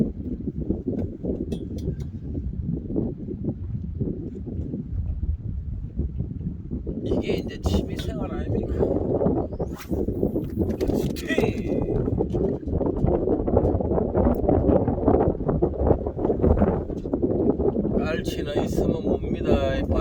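Strong wind buffets the microphone on a small fishing boat at sea off an island during hairtail fishing, a constant roaring rumble that swells and fades beneath people talking.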